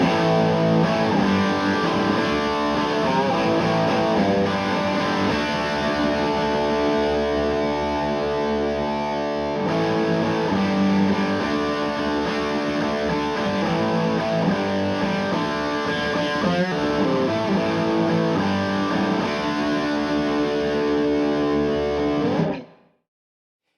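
An Orange Dual Terror guitar amp and cab, first at 30 watts and then switched to 15 watts, carries a loud, distorted electric guitar playing sustained chords and riffs continuously before cutting off abruptly at the end.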